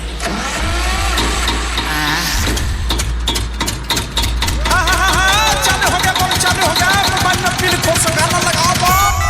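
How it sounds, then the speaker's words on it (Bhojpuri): A generator starts up and settles into running: a low steady engine drone holds throughout, with a sputtering start and a rising hum partway in, under loud music and voices. "अभी हम तेल रह के जनरेटर चालू करते हैं"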